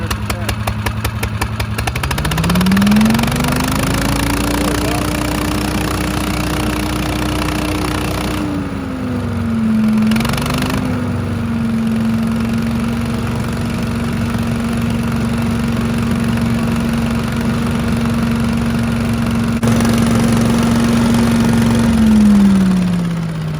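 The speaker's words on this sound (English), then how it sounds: "It's chugging along, but it seems like it's not really running at full power." Engine of a cheap used Kubota lawn tractor running at less than full power, with the choke not set right: a loud, steady, close chugging drone that rises after a couple of seconds and holds for the whole stretch.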